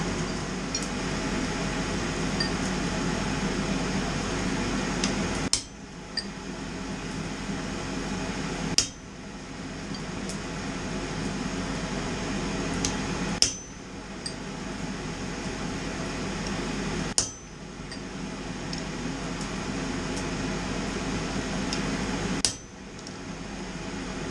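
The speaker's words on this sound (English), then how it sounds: "I think I'll try recessing these holes a little bit with a ball punch" A ball punch struck with a hammer to recess screw holes in a robe hook, five sharp metallic hits spaced several seconds apart over a steady background hum, close up and with no talk.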